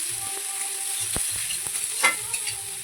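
Onion sizzles as it fries in a little oil for a meat curry, giving a steady hiss with a few soft stirring knocks and scrapes.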